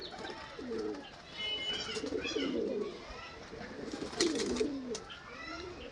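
Pigeons coo close by in a pet bird sale setting, soft throaty calls repeating in clusters with brief chirps between them.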